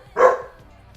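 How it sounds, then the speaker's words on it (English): A single loud, close bark comes from a dog in a horror video game, one short sharp woof that fades quickly into near silence. "there's the dog barking"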